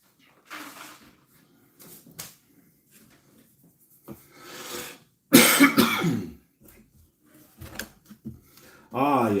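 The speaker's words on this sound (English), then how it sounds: "Ah, yes, the lovely cough." A person gives one loud cough near the microphone partway through, surrounded by quiet rubbing and scraping noises and a few short vocal sounds.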